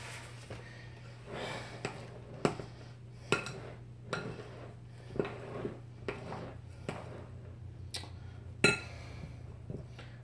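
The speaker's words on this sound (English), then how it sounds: "So I'm going to flip you around while I stir this." Banana bread batter is stirred in a bowl, with a spoon knocking the sides in a loose, repeated rhythm of soft clinks and taps over a quiet kitchen hum.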